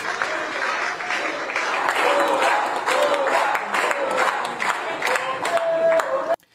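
Audience applause in a Brazilian political gathering, steady dense clapping from a large crowd throughout, with faint voices and a few whistles mixed in, ending abruptly.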